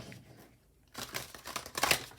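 Tarot cards being shuffled by hand, a quiet stretch followed by about a second of crisp, papery riffling and flicking that builds in bursts, close and fairly soft with no talking.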